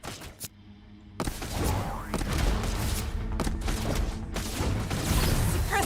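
Suppressing-fire gunshots in the Path to Nowhere game, a loud, dense volley of rapid shots and booms that starts after a short gap and keeps going almost without a break.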